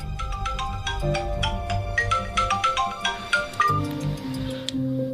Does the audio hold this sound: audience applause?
no